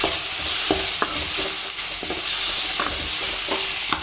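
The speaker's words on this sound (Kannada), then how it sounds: "ಇದೆಲ್ಲ ಚೆನ್ನಾಗಿ ಸ್ವಲ್ಪ ಫ್ರೈ ಆಗಬೇಕು" Chillies and masala for pani puri sizzle and fry in a pan under steady hiss, while a spoon scrapes and stirs in irregular knocks, close and alone with no voices.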